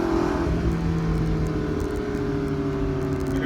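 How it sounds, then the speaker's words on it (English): A McLaren 650S with sport exhaust idles with a deep, steady engine drone, close and loud, its low tones holding level throughout. "I got the sport exhaust on this"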